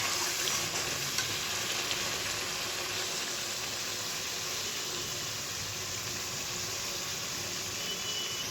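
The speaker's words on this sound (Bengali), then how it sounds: "বাটা মশলাটা দিয়ে একটুক্ষণ কষতে হবে, তারপরে জল দেবো।" Ground mustard and poppy seed spice paste frying in a pan for a Bengali papda fish curry, a steady dense sizzle holding evenly throughout with no speech.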